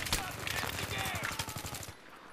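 Rapid hip-fire bursts of automatic gunfire in the video game Battlefield 3, loud and close, a dense run of sharp shots lasting about two seconds before cutting off, with faint chatter of game sound beneath.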